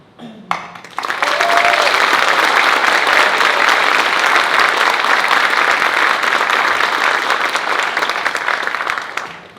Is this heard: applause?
yes